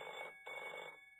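A cartoon telephone rings inside a Nick Jr. phone flash game, two short electronic bursts split by a brief gap, bright and steady with no voices.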